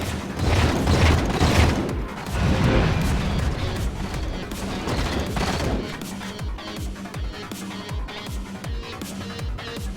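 Dense bursts of gunfire from a Halo machinima game scene, loud and rapid at first, then thinning into scattered shots and mechanical clanks as the fighting tapers off.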